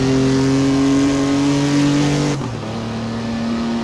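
A 1959 Mk2 Jaguar engine lapping Donington Park in Assetto Corsa, a loud steady in-car engine drone at high revs that drops sharply in pitch on a gear change and settles into a lower hum.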